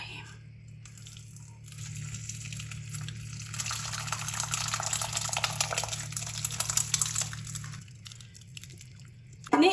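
Spoiled milk poured and strained through a muslin cloth, a steady liquid trickle and splash that swells for several seconds over a low background hum, then tapers off.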